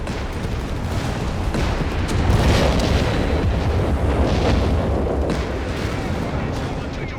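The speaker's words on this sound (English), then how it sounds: "Got artillery fire on the hill." Artillery pounds a hillside in a Company of Heroes 3 match between Wehrmacht and British forces, heavy low booms and rumbling blasts rolling on continuously at high volume.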